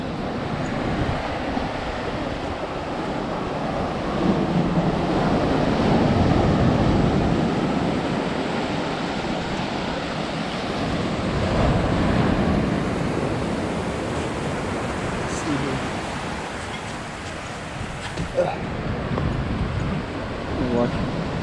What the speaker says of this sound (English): And this is the beach.